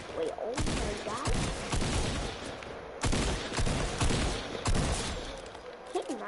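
Rapid bursts of gunfire from the Fortnite video game, dense and loud volleys with a short break around the middle, while voices talk over the shooting.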